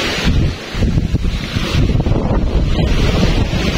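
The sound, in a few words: ocean waves crashing on rocks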